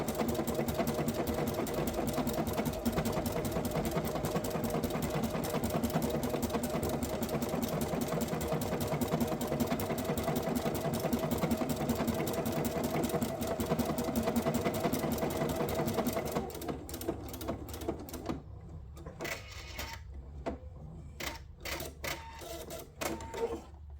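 A sewing machine stitches with its feed dogs dropped, a fast steady mechanical whir for most of the span that then breaks into short separate bursts of stitching, close and alone with no voices.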